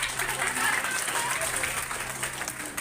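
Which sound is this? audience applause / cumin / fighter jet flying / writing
audience applause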